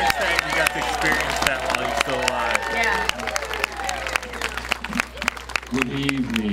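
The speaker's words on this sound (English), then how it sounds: "So let's give a big round of applause." Dense clapping from an audience for Bobby Boris Pickett at Molar Manor, Santa Clarita, 2004, steady and sustained throughout, with voices and whoops rising over it.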